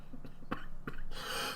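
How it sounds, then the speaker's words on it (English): A few short, muffled coughs from someone recovering from an illness, spaced irregularly and fairly quiet, followed by a brief burst of breathy noise. "Still coughing some."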